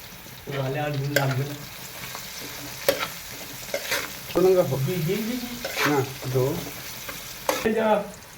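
Fried rice with coriander leaves and salt sizzles in a pan as a spatula stirs it in intermittent bursts, with scraping strokes and short tonal squeaks rising over a softer frying hiss.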